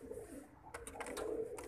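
Pigeons cooing softly, with a low steady coo under a few brief higher bursts, faint and close, during windy, damp weather.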